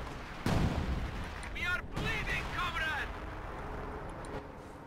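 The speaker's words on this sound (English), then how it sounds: "SU-76s barraging in the southern victory point, managing to force a retreat." SU-76 self-propelled guns firing an artillery barrage on a southern victory point in the real-time strategy game Company of Heroes 2, with a sharp blast followed by rolling impacts and whistling shells, partly under a commentator's talk.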